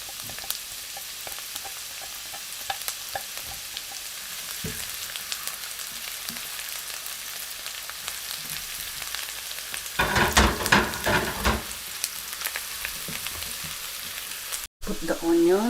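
Garlic sizzles in a hot pan with oil, a steady crackling hiss, and a burst of spatula scraping and stirring partway through; a chicken and broccoli dish is being cooked.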